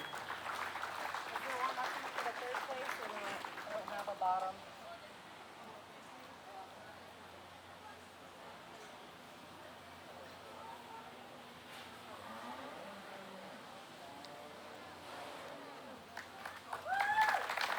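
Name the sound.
crowd applause at a county beef show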